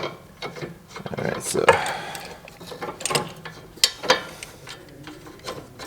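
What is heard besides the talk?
ratchet wrench on Honda CR-V sway bar link nut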